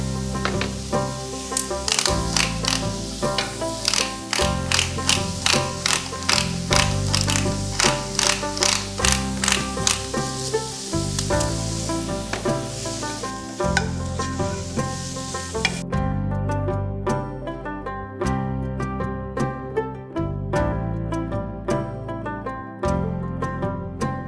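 Mushrooms frying in a pan while being stirred, a steady sizzle under repeated sharp taps and scrapes of a utensil against the pan in an uneven rhythm, close and fairly loud, with no talking.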